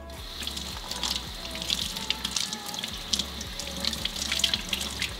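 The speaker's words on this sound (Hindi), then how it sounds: "सो सब तो पहला गोभी को अच्छी तरह धो लें।" Cauliflower is washed under a running kitchen tap: a steady stream of water splashes and sputters over the vegetable and into the sink, close and continuous, with small irregular splashes throughout.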